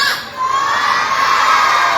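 Children and adults in a crowd cheer loudly after a clown performance at a community event, a continuous wash of shouts and squeals, close and energetic throughout.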